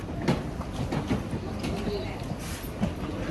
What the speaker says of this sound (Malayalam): ട്രെയിൻ വന്ന ട്രെയിൻ വന്നു കറക്റ്റ് ടൈമായിരുന്നു